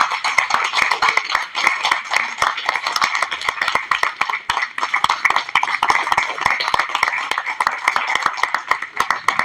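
An audience at the Cinéma Interdit film festival in Brussels applauds guests, including a Japanese director and actress: steady, dense clapping from a crowd that runs without a break for over nine seconds, close and lively.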